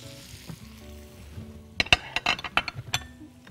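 Shrimp and onion sizzling together in a hot pan, with a quiet hiss at first, then sharper crackles, stirring and a few clinks of utensil against the pan in the second half.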